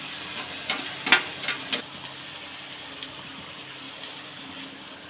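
Stirring chicken chow mein with spices, capsicum and chilli powder in a pan, a few soft scraping clicks near the start over a low background sizzle, then quiet.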